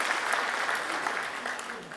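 Church congregation applauding during a Korean service, a steady dense wash of clapping filling the whole span, moderately loud and close.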